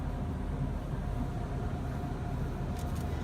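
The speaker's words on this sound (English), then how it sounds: "We're going through the Costco car wash now" An automatic car wash runs at Costco, heard from inside the car as a steady low rumble and churning wash noise, even and moderately quiet, with a brief faint rattle near the end.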